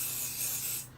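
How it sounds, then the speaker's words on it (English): Dritz temporary spray adhesive is sprayed onto embroidery stabilizer, a steady, close hiss lasting about a second with no voices. "now we're going to use our spray adhesive"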